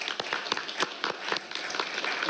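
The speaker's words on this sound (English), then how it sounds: "I would ask all of you to join me in a round of applause acknowledging their commitment" A small audience gives a brief round of applause at an International Credit Union Day event in Tacoma: uneven, fairly close clapping that comes in quick bursts and stays moderately loud throughout.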